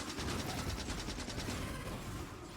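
Factorio gun turrets firing, a rapid steady stream of automatic shots, moderately loud and continuous, easing slightly toward the end.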